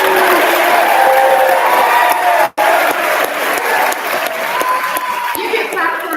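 Loud crowd applause with cheering and whoops for student ambassadors at a high school end-of-year assembly, sustained across the clip apart from a momentary dropout, with scattered voices in the mix.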